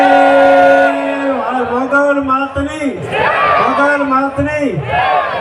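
A crowd at a Sanatan Dharma religious award ceremony raises loud, drawn-out chanted victory cries, voices rising and falling together in long sustained calls, close and strong.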